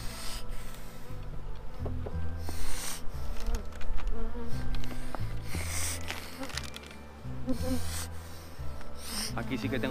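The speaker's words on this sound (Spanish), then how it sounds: "Aquí sí que tengo abejas por arriba" Honeybees buzzing around an open beehive during an apiary inspection, a dense close drone with shifting pitch and occasional rattling handling noises, with someone speaking in between.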